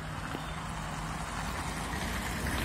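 Street traffic rumbles steadily nearby, with car engines giving a continuous low drone and hiss as vehicles move along the road. The sound stays at a constant moderate level, and no voices are heard.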